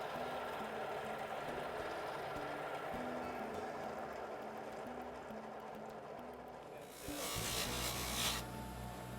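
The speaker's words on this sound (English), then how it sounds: "Dean polished a piece of turquoise using a high-grade gem-quality lapidary sander" A high-grade gem-quality lapidary sander polishing a piece of turquoise, a steady faint motor whir with a gritty rubbing hiss that rises into a brighter, harsher grinding near the end, with no voices.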